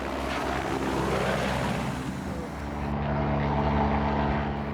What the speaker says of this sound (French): Pour livrer les 4 tonnes de denrées nécessaires au début de la saison, l'hélicoptère est encore le meilleur moyen.